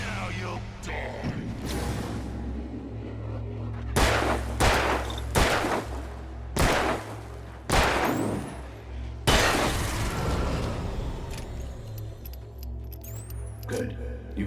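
Gunfire in the Alan Wake video game, a series of loud sharp shots spaced a second or so apart over a steady low ambient hum, followed by ringing metallic tails.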